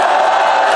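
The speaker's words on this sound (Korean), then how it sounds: "박수 한번 보내주십시오" A large outdoor rally crowd roars and cheers loudly in a dense, continuous wash of voices, close and without distinct claps.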